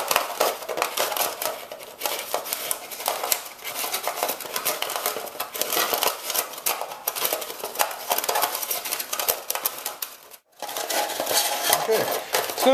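A thin metal windscreen edge for a backpacker alcohol stove being folded down to the rim, busy crinkling and tinny rattling close up, nearly continuous with a brief pause near the end.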